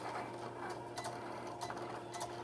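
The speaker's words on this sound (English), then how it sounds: "You're gonna hit that Cricut light, and it's gonna start cutting for you." A Cricut cutting machine slices heat transfer vinyl with a quiet, steady motor whir broken by soft rhythmic ticks as the carriage moves, faint and close, with no talk.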